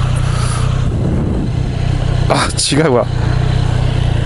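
Triumph Street Triple motorcycle with an Arrow exhaust muffler, its engine droning steadily and loudly throughout while riding, with a rider speaking briefly over it.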